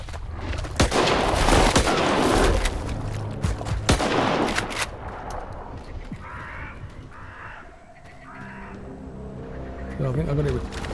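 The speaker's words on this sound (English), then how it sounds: "Right, so that was about four shots." Several sharp 9mm handgun shots from the hip in S.T.A.L.K.E.R. 2, cracking loudly in a quick cluster amid game noise and a creature's cries, then fading into quieter ambience.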